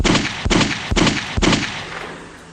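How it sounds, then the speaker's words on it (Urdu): Rapid gunshots as an audio drama sound effect, four loud, evenly spaced bursts of gunfire close together, each cracking sharply before the last one fades out, with no talking. "عمران نے بڑی تیزی سے سارے راؤنڈ ختم کر دیے"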